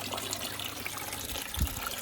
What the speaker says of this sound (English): Got this overflow, so that's aerating of the water